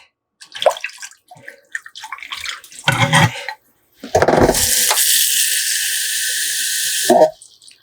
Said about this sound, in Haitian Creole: Mettez un bon petit d'eau là-dedans.